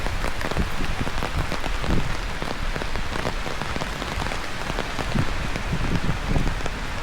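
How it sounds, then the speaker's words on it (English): Hailstones fall on a July day in Eton and Windsor, a dense, steady patter and rattle on hard surfaces filling the air, close and continuous with no talking. "Oh, hail! Hey, it's hail!"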